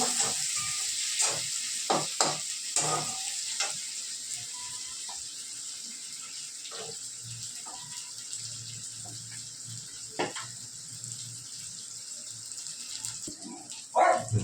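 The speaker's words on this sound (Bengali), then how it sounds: "হালকা পেঁয়াজটা ভাজা হবে" Onions sizzling lightly in hot oil in a wok, with a steady close frying hiss and a few sharp clicks and scrapes of stirring.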